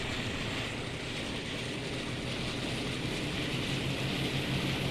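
A locomotive's Maybach engines roar in a loud, steady, unbroken drone with a jet-like whine on top, holding constant throughout without any talking.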